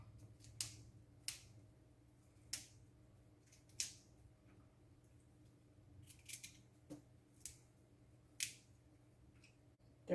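A knife cuts thick broccoli stems in a kitchen, producing sharp, separate crunchy snaps spaced a second or so apart, close and fairly quiet over a low background hum.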